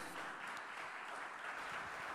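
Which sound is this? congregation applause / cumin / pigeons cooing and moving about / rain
congregation applause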